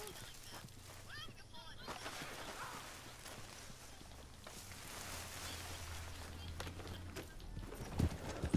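Horse hooves clip-clop in Red Dead Redemption 2, a rhythmic patter of hoofbeats moving through the scene amid game noise, with a low droning tone and a few heavier thumps near the end.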